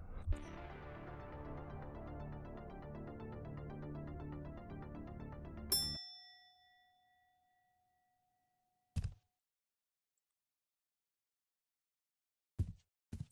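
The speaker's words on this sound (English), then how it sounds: "interacting with the small service bells" A small service bell in the PC video game Massacre At The Mirage rings once with a bright, lingering metallic ding after a stretch of music, followed by a few short knocks.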